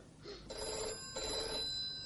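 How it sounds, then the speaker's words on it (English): A telephone bell rings in an audio play, two distinct ring bursts in quick succession, clear and fairly close with no talk over them. "The phone's ringing."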